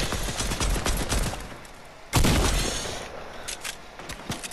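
Rapid gunfire in a Fortnite firefight, a dense crackle of overlapping shots with a sharp loud burst midway, then scattered shots continuing.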